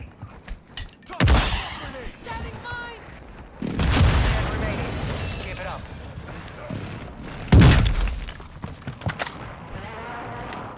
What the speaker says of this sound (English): I point an airstrike down in there.